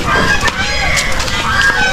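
Turkeys and chickens on a free-range farm at feeding time, a close, loud chorus of gobbling and clucking fowl calls overlapping continuously.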